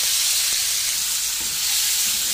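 Lamb liver fries in hot oil with a steady, dense sizzle close by, loud and continuous, with faint stirring knocks underneath.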